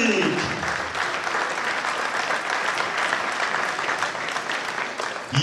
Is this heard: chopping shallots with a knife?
no